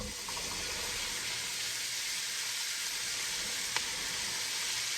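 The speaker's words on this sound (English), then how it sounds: "you want to take a half a stick of butter and let that start melting. And then you want to go ahead and add your veggies" Celery, carrots and onions hit half a stick of melting butter and give a steady, moderate sizzle close by, with one brief faint clink partway through.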